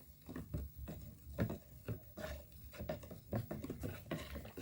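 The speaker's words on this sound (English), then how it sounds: "milliliter of formalin, and then we mix it together" Tile cleaner ingredients including formalin being stirred together in a container, with quiet irregular clinks, taps and scraping strokes heard up close and faint.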